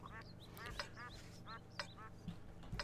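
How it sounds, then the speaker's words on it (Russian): Duck quacking repeatedly in a tank video game, a series of short nasal quacks in quick bursts, moderately loud over faint game background. "Надо мной утка стебется."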